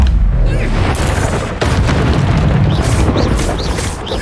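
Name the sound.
explosion from the Confringo spell in a Harry Potter video game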